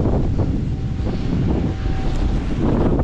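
Strong warm wind blows hard past a windmill in a field, a loud, continuous roaring gust buffeting the microphone for the whole stretch.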